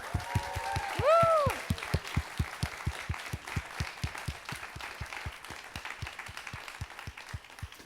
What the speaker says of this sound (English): they're the ones who actually deserve that round of applause